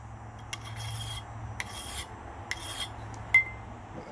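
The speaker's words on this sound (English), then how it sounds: "you can file the edges of these real quick" A file rasps across the edges of a chainsaw chain during routine maintenance to take off burrs, giving three short bursts of scraping at an even pace and a small metallic ping, with no talking.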